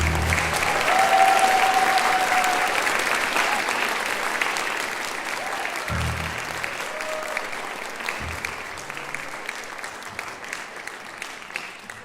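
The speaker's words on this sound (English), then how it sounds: "Can we have one more huge round of applause for all of the elementary school students?" An audience at a town concert gives a sustained round of applause for elementary school band students, dense steady clapping filling the hall that slowly tapers off, with a faint voice briefly audible early on.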